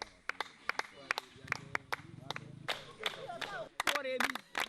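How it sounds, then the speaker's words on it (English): Visitors in a forest clapping their hands at monkeys at sunset, sharp irregular handclaps from several people, some in quick bursts, mixed with voices talking and exclaiming nearby. "The visitors suddenly started clapping their hands."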